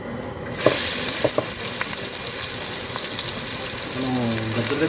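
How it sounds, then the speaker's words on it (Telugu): Onions dropped into hot oil for a Telugu-style fish curry, setting off a loud, steady sizzle that starts abruptly and holds throughout, with a few clinks and faint water-like bubbling near the end. "ఫస్ట్ మనం ఆయిల్లో ఉల్లిపాయలు వేసుకుందాము."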